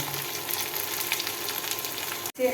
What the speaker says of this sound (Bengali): পেঁয়াজ ভাজি হয়ে গেছে এখন দেব টমেটো কুচি দিব